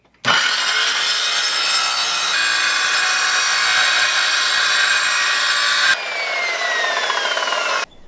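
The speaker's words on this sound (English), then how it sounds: "I made a basic rig in order to ensure a nice straight cut using a circular saw" A circular saw with a dull blade, guided by a simple straight-edge rig, cuts through a wooden board for a live trap: a loud, close, sustained whine that shifts pitch partway through, then spins down when the cut ends.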